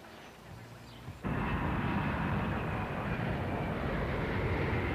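Steady airliner engine drone at cruise on a Honolulu-to-Taiwan flight, a broad loud roar that kicks in abruptly after a quieter start and holds constant to the end.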